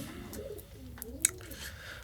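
Soft pigeon cooing inside a pigeon loft rises and falls in low, rolling phrases against a quiet background, with a brief sharp tap near the middle.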